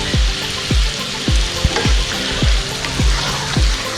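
Red chili, coriander and salt frying in hot oil for chicken biryani make a loud, continuous sizzle, with a spoon stirring in a regular rhythm of repeated scrapes about twice a second.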